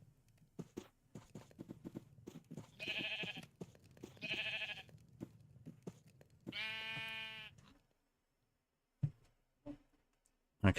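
Sheep bleat in the video game Aetherial Airships with a few loud, drawn-out calls, mixed with soft clip-clop footsteps, then fall silent apart from a couple of faint thumps.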